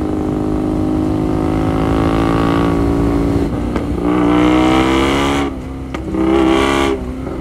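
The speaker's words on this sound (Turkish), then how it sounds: "Çok güzel patlıyor egzoz." A loud custom Ducati XDiavel motorcycle engine revs and holds high, then drops off in bursts, with crackling exhaust pops between the revs.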